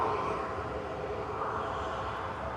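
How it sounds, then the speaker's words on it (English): A Ryanair airliner departing Manchester Airport, a steady broad jet engine roar heard from a distance, even and sustained with no voices. "Ryanair departing to Limoges, flight 38"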